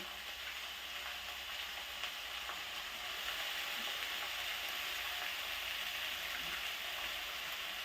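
Constant bright sizzling of garlic frying in a hot pan, close and steady throughout, with no talking.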